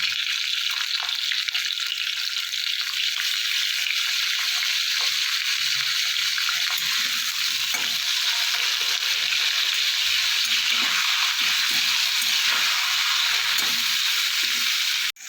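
Flat beans (shim) frying in a pan with a little salt and turmeric, a steady bright sizzle running throughout with occasional soft stirring scrapes, close and continuous.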